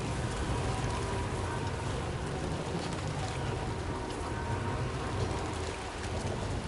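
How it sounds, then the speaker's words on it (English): Steady heavy rain pouring with low rolling thunder in the video game Death Stranding 2, a dense continuous hiss over a deep rumble that swells and fades, with no voices. "I was just going there to try and get out of the rain"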